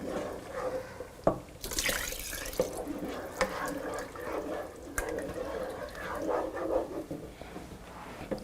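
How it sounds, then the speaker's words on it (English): Water running from a kitchen tap during cooking, a steady splashing flow with clinks and sharp knocks of pots or utensils scattered through, fairly close. "I'm going to add water."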